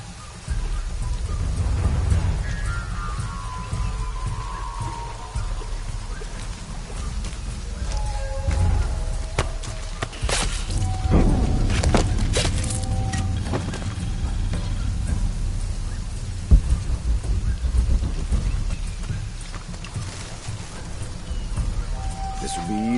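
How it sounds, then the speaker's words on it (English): Steady rain hisses and patters in a video game, Shadow of the Tomb Raider, with low rumbles of thunder rolling under it; voices speak briefly as the downpour keeps up. "This would be easier if it wasn't raining."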